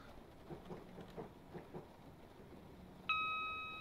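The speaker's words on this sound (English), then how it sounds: "The sound of rain is going to do my head in." Soft, steady rain patters in the background with faint low rumbles, then a bright electronic chime rings out and slowly fades near the end, in the video game Train Simulator 2021, Suburban Glasgow Northwest route.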